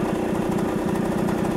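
A 1966 Harley-Davidson Aermacchi M50S motorcycle engine idling, a steady close, loud, rapid low putter with an even pulsing rhythm and no voices.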